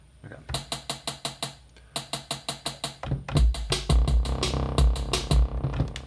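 A rapid, evenly spaced hi-hat roll from a Korg Electribe Sampler 2, resampled at double time for a trap beat, in short bursts, then a denser, faster stretch of rattling hits with low thumps underneath.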